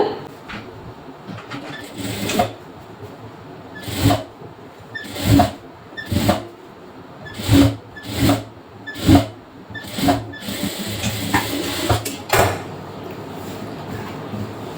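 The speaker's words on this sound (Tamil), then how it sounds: "ஸோ திரும்ப இன்னொரு தையல் போட்டுக்கலாம்" A sewing machine stitches a blouse in short, repeated bursts of whirring motor and needle clatter, separated by brief pauses as the fabric is turned.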